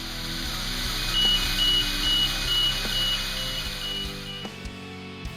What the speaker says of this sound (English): Tilt alarm.